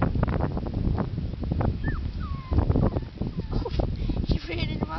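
A puppy lets out a few thin, high whimpers amid a busy, noisy background of movement and bustle.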